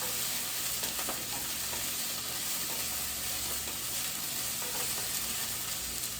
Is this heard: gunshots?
no